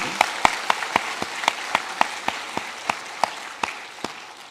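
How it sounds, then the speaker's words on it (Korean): Church congregation applauding a first-time visitor during a Korean worship service; a slow, rhythmic unison clapping with distinct evenly spaced claps, fairly close and clear, without talk. "우리 그분께 박수 한번 보내드립시다"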